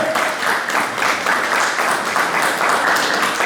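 An audience at a Haitian community gathering in France applauds to honour a doctor being introduced, a loud, dense, continuous wash of clapping that swells and eases slightly in waves.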